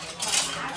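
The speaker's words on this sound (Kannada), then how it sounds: "1-2 ನಿಮಿಷ ತಾಟ್ ಮುಚ್ಚಿ ಬಿಡೋಣ." A plate goes over a pan of chicken liver frying with tomatoes, giving a single brief, soft metallic scrape and clatter at close range.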